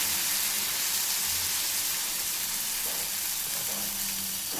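A dosa batter spread on a hot griddle rubbed with onion sizzles in a continuous, loud, even hiss from start to finish, with no voices.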